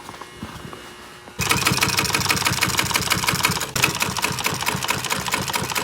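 A sewing machine stitches upholstery for a pontoon boat seat. After a quiet start it runs in one loud, close, continuous burst with a steady fast rattle, a brief dip midway, then carries on.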